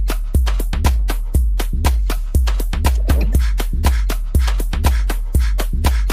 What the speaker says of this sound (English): This is house music.